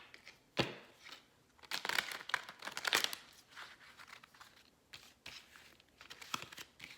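Paper playing or tarot cards being shuffled by hand, a run of crisp riffling and slapping bursts close up with short pauses between them, no talking.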